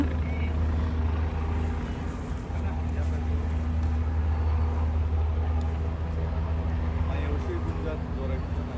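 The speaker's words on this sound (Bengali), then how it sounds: "হেলিকপ্টারের আওয়াজে পুরো কান জ্বালাপালা হয়ে যাচ্ছে" A loud, steady helicopter drone over New York City fills the scene with a low throbbing rumble, while people talk over it.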